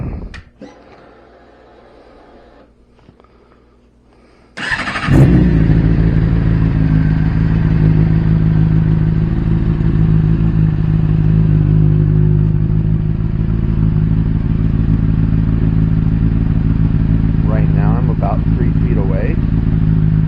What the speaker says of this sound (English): I'm going to go ahead and start her up